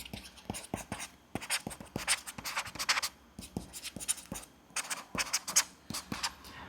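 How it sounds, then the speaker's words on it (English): Steady scratchy strokes of a fine textured stylus on an Onyx Boox Note Air4 C e-ink tablet, quick repeated taps and drags, close and fairly quiet, with no talking. "the sound is quite similar to using a fine point or ultra point Sharpie marker on"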